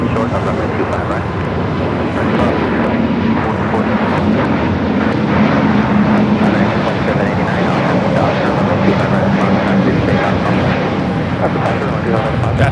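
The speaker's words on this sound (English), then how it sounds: "That is Volati 7849 taking off to Oaxaca on the A320 Neo" A Volaris Airbus A320neo takes off at LAX, its jet engines giving a loud, sustained roar that holds steady throughout, with voices talking over it.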